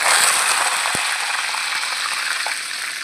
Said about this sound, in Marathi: आता मी यात राई घालून घेणार आहे